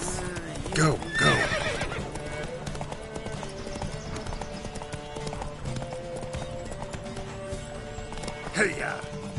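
Horses in The Witcher 3 race whinny loudly near the start and again near the end, with steady galloping hoofbeats clattering underneath throughout.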